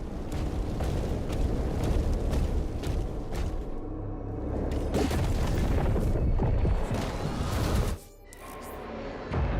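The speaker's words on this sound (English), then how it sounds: "After a slam attack, the Blighted Hell Knight will build up and release a massive explosion" The Blighted Hell Knight in DOOM The Dark Ages builds up and releases a massive explosion: loud booming blasts and a rumbling roar that carry on for several seconds, then drop off abruptly near the end.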